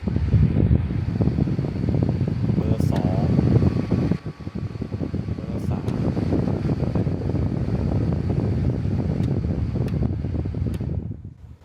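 A Milwaukee M18 cordless fan runs on its lowest speed, making a steady, loud whirring hum that dips briefly partway through, with a few faint clicks, then fades at the end.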